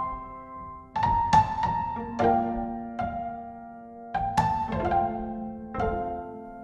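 Herman Samples felt piano and Frozen Piano layered together, playing soft, warm chords with gentle attacks and long shimmering decays, quiet and spacious, with no voices.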